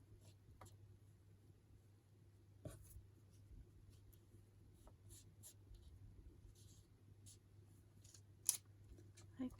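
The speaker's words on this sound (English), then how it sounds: "Okay, scissors." Scissors snip through paper during a craft session cutting neutral-tone book-page ephemera; a few faint, scattered snips stand out over a quiet, steady background hum.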